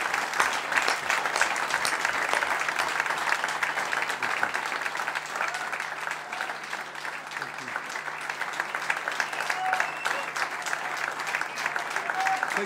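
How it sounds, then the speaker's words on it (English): Sustained audience applause fills a hall at the close of a music lecture, steady dense clapping from a crowd lasting the whole stretch without letting up, with no voices over it. "we should all applaud them for their work and organising tonight"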